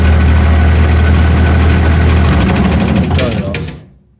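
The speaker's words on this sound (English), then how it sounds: "Well, let's crank it." A Vermeer BC1000X brush chipper engine cranks and runs with a loud, steady low rumble and vibration, then is shut off near the end, the sound winding down and fading to silence.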